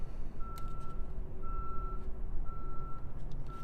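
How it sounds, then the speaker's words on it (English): A machine reverses in the background, its beeper sounding three steady, evenly spaced tones over a constant low rumble, moderately distant, with no voices. "machine in the back beeping."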